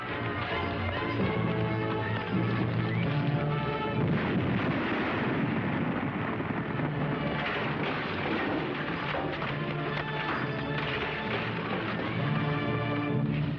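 Explosion from an attempt to blow people up in a 1950s TV Western, a heavy sustained rumbling blast with dense low roar and crackle filling over thirteen seconds, loud and alone without talk.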